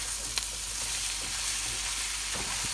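Spinach, bacon and potato sizzle steadily in a hot frying pan, a continuous close crackling hiss with a few brief stirring clicks and no talking.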